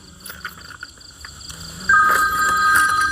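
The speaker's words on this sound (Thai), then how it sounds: "โทรศัพท์ดัง" A mobile phone rings suddenly and loudly outdoors in a quiet rural spot at a spirit shrine, a steady electronic tone that keeps going after a few faint earlier knocks and rustles.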